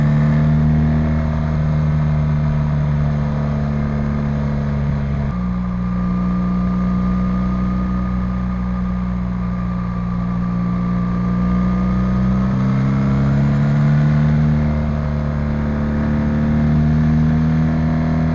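A car engine pulling hard on the winding Domaniç mountain road, a steady loud drone that dips and climbs again through the bends, with shifts in pitch around gear changes and no talking.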